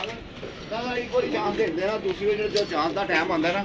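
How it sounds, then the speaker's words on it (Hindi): A pet pigeon coos in a repeated, wavering warble close by, with someone talking over and between the calls. "ये माशाल्लाह दोस्तों कबूतरी है"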